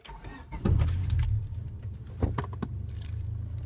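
Car with an aftermarket intake manifold and throttle body cranking and firing on a cold start, then settling into a steady low, loud idle with a brief rev blip, keys jangling near the start.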